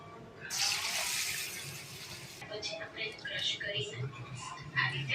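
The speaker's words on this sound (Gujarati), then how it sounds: "તો એને પહેલા આપણે સરખી રીતે પાણી વડે ધોઈ લેશું।" Moong and urad dal being rinsed with water in a kitchen: a burst of running water for a couple of seconds, then wet splashing and swishing as the lentils are stirred by hand, close and fairly soft.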